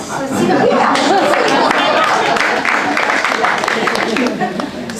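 Audience at a public critical dialogue with Francesca Albanese breaking into sustained applause mixed with cheers and crowd chatter, loud and steady throughout, with voices audible within the clapping.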